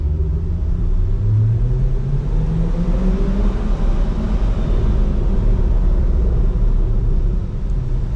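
Interior drive in a new Chevrolet C8 Corvette mid-engine sports car, a loud, steady low engine rumble with a tone rising gradually as it accelerates, road noise underneath and no talking.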